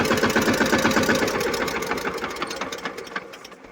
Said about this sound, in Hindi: अभी देख सकते हैं कि जो हमारा ट्रैक्टर है वो स्टार्ट हो गया है